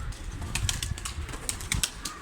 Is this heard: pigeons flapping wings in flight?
yes